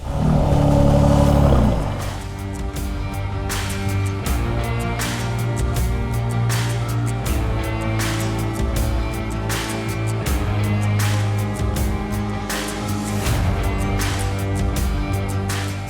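A Mercedes-AMG S63 coupé's V8 barks into life with a loud start, then settles into a deep rumbling idle broken by repeated sharp throttle blips, close and alone.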